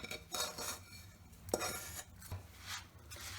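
Jaggery being mixed with spices by hand in a large plate, with soft scraping, rubbing and occasional clinks against the metal, heard close and quiet with no talk.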